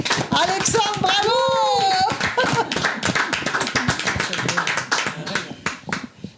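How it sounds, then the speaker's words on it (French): A studio audience gives Alexandre a burst of dense applause, many hands clapping close up, mixed with cheering voices and some talk throughout. "on l'applaudit, magnifique"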